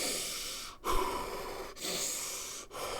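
Slow, heavy breathing of a horror mod creature in a video game, long rasping inhales and exhales in a repeating cycle, broken by brief silent pauses, fairly close and alone.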